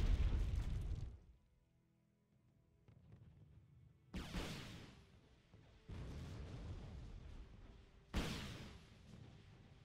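Artillery shells exploding in the war strategy game Wargame: Red Dragon, a heavy boom opening the clip and two more loud blasts at spaced intervals, each followed by a rumbling decay over a low background.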